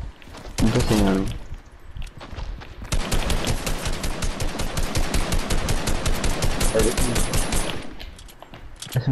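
SMG gunfire in the video game Fortnite rattles out in rapid, loud sustained bursts, with a short volley early on and then a long continuous stream of shots, and voices talking in between.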